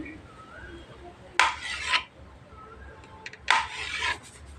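A knife cuts a block of soap base into small pieces for homemade neem soap, making two separate short scraping strokes close by against a quiet background, with no talking.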